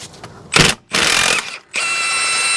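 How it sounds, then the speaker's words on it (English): An impact wrench with a socket works loose the crankshaft pulley bolt on a 2.2L Toyota Camry, three loud close bursts of rapid hammering ratchet, the last one steady and sustained. "let's see if we can get this off with this socket and this impact"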